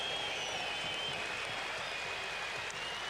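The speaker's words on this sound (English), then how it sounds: "give another warm round of applause to the man who took South Africa to victory" Sustained applause from a crowd at a South Africa versus Australia one-day international cricket match presentation, a steady dense clapping throughout with faint announcer tones underneath.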